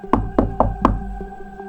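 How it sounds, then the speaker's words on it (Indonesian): Four sharp knocks on a door in quick even succession, close and loud, followed by a couple of faint softer taps as a low hum lingers underneath. "Sebuah ketukan di pintu mengagetkan Abdi dan Tias."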